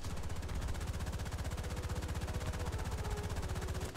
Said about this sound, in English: Also, the machine gun.